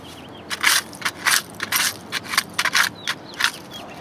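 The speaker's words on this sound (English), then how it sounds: "I'm gonna dig it out with this thing called the Pico" Metal Pico digging tool scraping and crunching into packed dirt around an old glass bottle buried under a parking lot, a series of short, close gritty bursts in an irregular rhythm.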